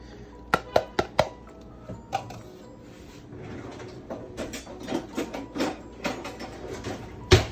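A spoon stirring cayenne, paprika, ground cumin and granulated garlic in a pot, sharp metallic clinks and scraping knocks in an irregular rhythm, close by, with no talk.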